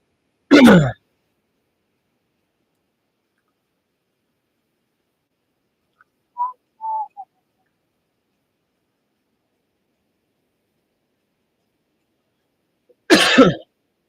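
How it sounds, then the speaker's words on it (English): Two sharp coughs straight into a microphone, one at the start and one at the end, separated by near silence with a few faint clicks in between. "I'm sorry I keep coughing in the mic"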